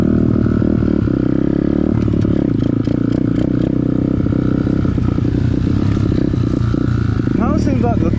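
An Amazon pit bike fitted with an upgraded carburetor revs hard in second gear, a loud steady engine drone with rattling clatter throughout and no pauses.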